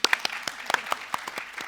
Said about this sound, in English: Could we just have a round of applause for Louise?